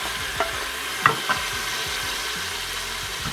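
Meat browning with onion and cloves in a Moulinex Cookeo pot, a steady close sizzle broken by a few scraping stirs and small clatters, with no voices.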